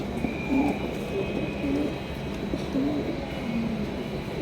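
Pigeons at a pigeon sale, including a Bantinet-type bird, cooing softly in short repeated low murmurs over steady background noise.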